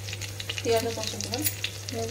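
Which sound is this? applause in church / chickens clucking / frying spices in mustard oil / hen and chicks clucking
frying spices in mustard oil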